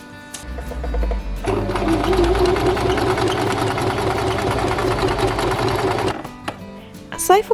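Sewing machine stitching together the front and back panels of a cosplay skirt, running steadily and fairly loud for about five seconds, with a quieter stretch before and after.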